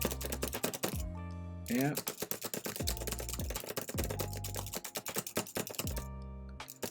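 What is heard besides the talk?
typing on a computer keyboard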